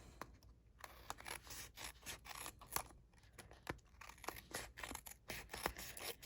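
Scissors trim excess paper from a handmade card in quick, quiet snips, one after another in an irregular rhythm, close up with no voices.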